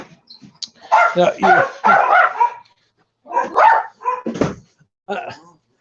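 Several dogs bark in loud bursts close by, with pauses between clusters of barks and some yips mixed in.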